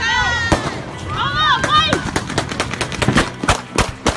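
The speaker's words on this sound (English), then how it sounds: "As the car drove away, gunfire was heard, causing panic." Shouting voices give way to a rapid burst of sharp cracks, many shots in quick irregular succession amid commotion.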